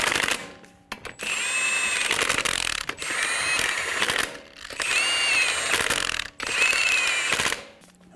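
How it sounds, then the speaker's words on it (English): A power ratchet snugs down car lug nuts in four loud sustained whirring bursts, each rising in pitch and separated by short pauses. "Snug down the lug nuts."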